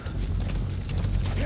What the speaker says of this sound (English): Come on, D-horse.